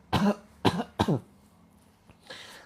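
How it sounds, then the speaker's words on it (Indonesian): Three sharp coughs in quick succession, close and fairly loud, followed by a faint click and a soft breathy exhale. "Yuk, batuk-batukan."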